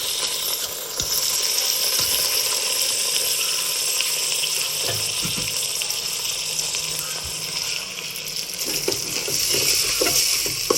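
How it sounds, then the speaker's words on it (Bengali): Three cups of rice frying and being stirred in a pan for ilish pulao: a steady, dense sizzle with scattered scraping and clinking from stirring, continuous throughout. "এই চালটাকে ভালোভাবে ভেজে নেব।"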